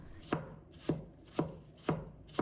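Knife dicing apple on a cutting board: five evenly spaced, crisp chops roughly half a second apart, close and clear with nothing else in the background.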